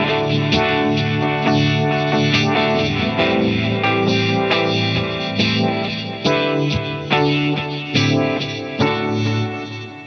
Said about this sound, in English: So I put the Univibe on this, and I've got like an echo sound.